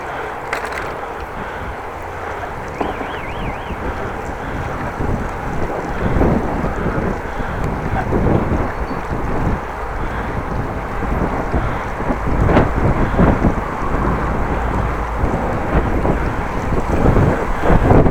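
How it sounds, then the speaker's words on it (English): Headwind blowing over a rider on a Dutch bicycle on a windy morning: a continuous loud roar and buffeting against the microphone for the whole stretch, with no talking. "Little headwind at the moment."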